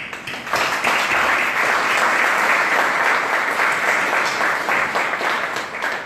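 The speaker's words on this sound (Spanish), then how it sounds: "les pido a todos un aplauso antes de que nos den a conocer su dictamen" A large audience at a legal essay award event bursts into sustained applause, a loud, dense and even roar of clapping that rises quickly and holds for several seconds with no talk.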